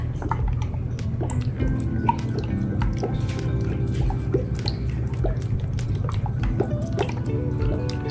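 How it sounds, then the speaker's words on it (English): Fresh lime juice squeezed into taquito filling, a close series of wet drips and small squishes falling steadily over a low background hum, without speech. "we're gonna go in with some lime juice"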